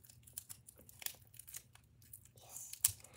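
A bag of sandy dirt is torn open at close range, with crinkly rips and rustling in short bursts ending in a sharper tear, quiet overall.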